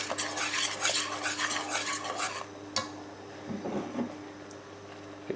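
A spoon scrapes and stirs a milk sauce in a pan over medium heat for a homemade fish pie, quick busy scraping at first, then a faint low bubble with a few soft clinks.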